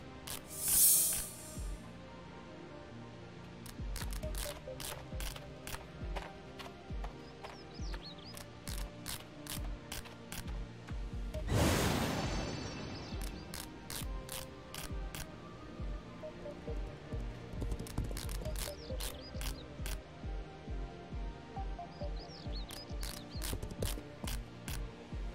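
Repeated mechanical crafting clicks and ratcheting as cotton is turned into bolts of cloth in the game Aria, a steady run of sharp ticks with a brief whoosh midway, alone with no talk.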